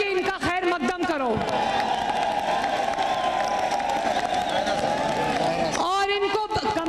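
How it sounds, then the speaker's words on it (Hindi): Crowd at a political election rally in Daska applauds and cheers loudly in a sustained roar for several seconds, bracketed by someone speaking through an echoing loudspeaker before and after. "इनको तालियां बजा के इनका खैर मकदम करो।"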